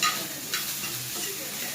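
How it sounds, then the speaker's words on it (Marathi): Okra (bhindi) fries in a pan with a soft sizzle while a utensil stirs it, a quiet, close stirring sound that starts with a scrape and goes on without talk. "आणि तिकडं बनते आता भेंडी फ्राय"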